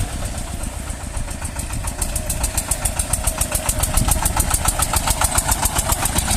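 Shifeng SF-240 small tractor engine working at full throttle while pulling a homemade grain trailer up a steep hill, a rapid, steady diesel chugging that grows slightly louder partway through, close and dominant.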